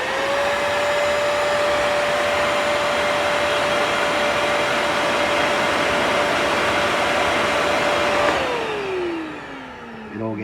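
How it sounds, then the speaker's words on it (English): A vacuum cleaner motor blowing air into a backyard blacksmithing forge roars loudly and steadily with a whining hum and rushing air, then winds down as it is switched off. "I'm using a vacuum"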